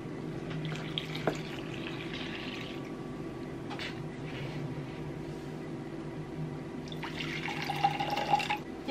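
Room-temperature water goes into a measuring cup for Korean pigodi dough: faint, soft splashing and trickling over a low, steady background hum, with a brief fuller gush near the end.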